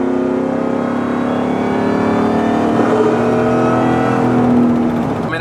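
A Ford F150 pickup truck launches hard from a red light, its engine roaring loudly and rising in pitch as it accelerates, heard up close from inside the cab.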